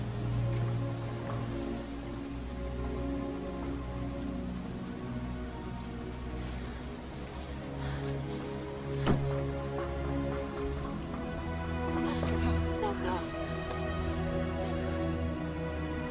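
Steady rain falls through a night reunion scene in The Incredible Hulk film, a constant wash of drops with low music or rumble underneath and no voices.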